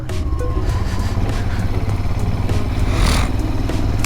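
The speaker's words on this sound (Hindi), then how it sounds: "इतना मस्त लग रहा है ना खड़े होके बाइक चलाना" A motorcycle rides along a Himalayan mountain road in Uttarakhand, its engine a loud, continuous rumble with wind noise and no speech.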